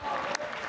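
Brief burst of audience clapping on a talent show, dense and close, lasting under a second.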